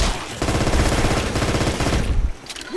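Rapid automatic gunfire from survivors in Left 4 Dead 2 rattles loudly and continuously for about two seconds, then cuts off into quieter game sounds.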